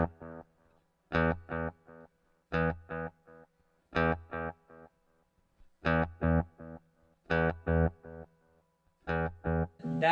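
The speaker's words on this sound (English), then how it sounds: "That is an EQ that is only on the echo. It's not on the sound of my guitar." Electric guitar played through a pedalboard with an echo effect whose repeats pass through their own EQ, leaving the dry guitar tone untouched; short distorted chord stabs recur in a steady rhythm, loud and close, with no talking.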